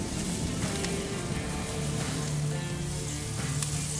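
Skin-on chicken thighs sizzle over glowing embers on a smoker grill, a steady dense crackle and hiss throughout with small pops, close and continuous with no talking.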